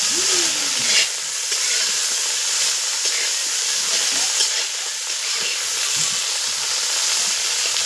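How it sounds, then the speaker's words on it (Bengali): Okra frying in oil, a continuous close sizzling hiss that stays loud and even throughout, with faint stirring clicks and no talk. "ভেন্ডিটা ভাজা হয়ে গেছে, এবার আমি নিচ্ছি।"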